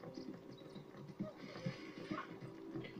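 Horse hooves clip-clop in a rapid galloping rhythm in the video game Red Dead Redemption 2, with an occasional neigh, the whole scene fairly quiet and distant.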